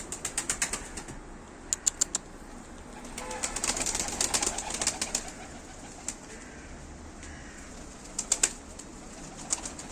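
Tumbler pigeons fly overhead, their wings flapping in scattered bursts of clatter, with a faint coo or two over soft outdoor background noise.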